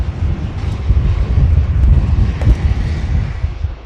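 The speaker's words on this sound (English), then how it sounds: "That wind really picking up as well" Strong wind buffets the microphone outdoors at Manchester Airport, a steady loud low rumble with gusts swelling and easing throughout, no other clear sounds standing out.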